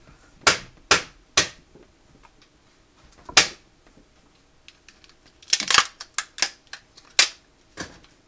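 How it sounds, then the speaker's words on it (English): Hammer banging during a cell-processing session, sounding as sharp, irregular impacts: three strikes early, one near the middle, then a dense cluster of quick blows toward the end, close and fairly loud with no talk. "Banging hammer."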